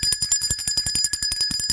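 A bright metal bell struck in a rapid, even series of about twenty ringing hits, each tone sustaining under the next, close and clear with no speech.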